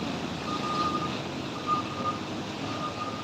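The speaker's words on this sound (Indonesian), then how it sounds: "Terpantau truk kanter plat AD melintas pagi ini di Sitinjelawi." Steady reversing beeps from a Canter truck with AD plates on a mountain road at Sitinjau Lauik, Sitinjau in the morning, sounding repeatedly over a broad, even rumble of engine and road noise.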